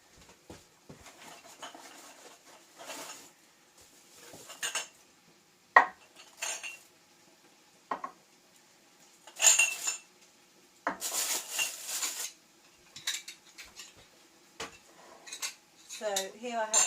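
Glass jam jars and metal lids being sterilised clink and clatter in separate bursts, some sharp and close, with quiet pauses between handling sounds.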